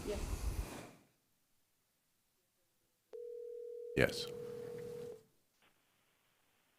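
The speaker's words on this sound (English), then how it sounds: "I believe we have one caller on the phone." A telephone line connects to a public county commissioners meeting, a steady electronic tone holding for about two seconds with a brief crackling burst, after a short spoken word and silence.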